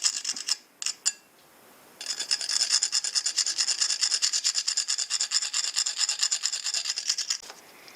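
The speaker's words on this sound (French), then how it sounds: "je prends un disque diamant, de disqueuse, et j'ai bavure les bords" Edges are deburred with a diamond angle-grinder disc. A few short scrapes give way to a fast, rhythmic rasping of repeated close strokes.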